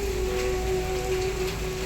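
Unseasonal rain falls steadily at night at a house, a constant soft wash of patter with a faint steady hum beneath it.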